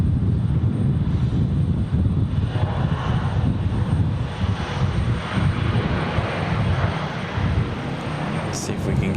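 An airliner departs Raleigh Durham airport with a loud, sustained engine roar that holds steady throughout, close and full-bodied, while a person speaks faintly beneath it.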